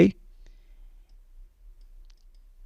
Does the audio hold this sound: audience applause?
no